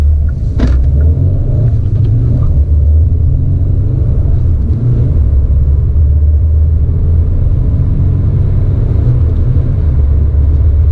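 A 2019 Kia Ceed with a 1.6 diesel engine, 150 horsepower and a six-speed manual gearbox drives along a road, its low engine and road rumble steady and loud inside the cabin.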